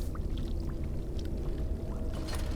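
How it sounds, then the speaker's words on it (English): In Dragon Age: Origins, an earthen clay jug is dipped into a pool and fills with water, a continuous gurgling, splashing pour close up, with no voices. "You dip the jug into the water until it fills up completely"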